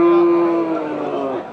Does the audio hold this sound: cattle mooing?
yes